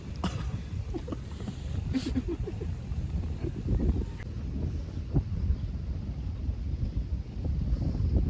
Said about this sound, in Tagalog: So windy today here at the sawmill.